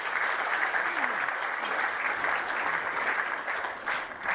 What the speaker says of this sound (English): A round of applause for Rowan and David, please.